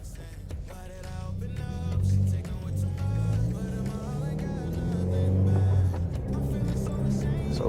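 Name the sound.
Subaru WRX car driving early in the morning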